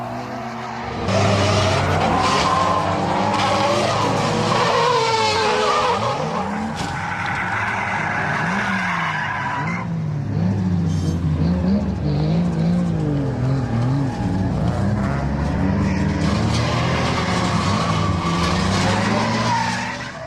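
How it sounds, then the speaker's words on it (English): A Nissan S14 Silvia with a Toyota 1JZ single-turbo engine drifts through practice at Ebisu in Japan in heavy rain, its loud engine revving and falling as the tires squeal continuously. The car stays close throughout with no voices. "This S14 Silvia uses a Toyota 1JZ single turbo engine, which gives a wider torque band than the SR20."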